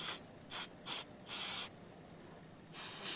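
Several short hissing bursts of aerosol carburetor cleaner sprayed into a Troy-Bilt 2100 snow blower carburetor, one longer than the rest, with brief quiet gaps between them, close by.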